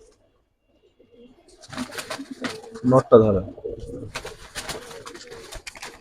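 Restless Bezi high-flyer pigeons coo in a cluster of soft, throaty calls with some rustling nearby, while someone speaks briefly.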